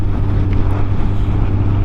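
A Honda motorcycle pulls away from a standing stop on a cold Brussels street, its engine a steady, close, loud drone mixed with wind buffeting for a couple of seconds.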